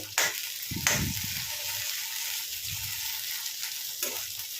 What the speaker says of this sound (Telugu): పచ్చిమిర్చి అయితే వేగాయి. ఇలా వేగాలండి.